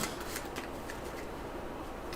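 A deck of cards from a Dark Souls card game being shuffled, a soft continuous rustling and riffling, quiet and close, without speech.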